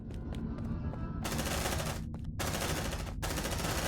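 Automatic gunfire in an Aliens: Dark Descent cinematic, with loud, dense bursts of rapid shots broken by short gaps, set over a constant low rumble.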